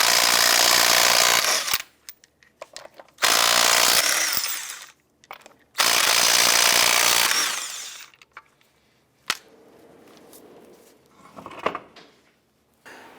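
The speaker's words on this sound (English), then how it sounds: "Using a 19mm socket, we'll go ahead and remove the lug nuts." A power tool with a 19mm socket spins lug nuts off a 2003–2007 Jeep Liberty rear wheel: three loud, close whirring runs of a couple of seconds each, separated by pauses, followed by quieter clinks and handling noises.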